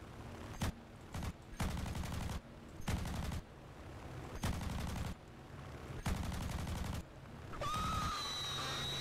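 Aircraft cannons firing in the War Thunder combat flight game, heard as repeated long bursts of rapid, heavy automatic fire separated by short pauses, loud and close, with a rising whine of engine or wind near the end.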